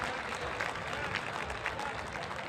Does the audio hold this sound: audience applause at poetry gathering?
yes